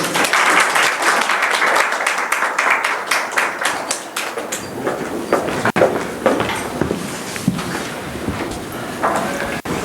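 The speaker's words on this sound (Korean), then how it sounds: "큰 박수로 맞이해 주십시오" Hearty applause from a seated audience at an education seminar welcomes a lecturer, dense clapping that thins out over several seconds as footsteps and room shuffles take over.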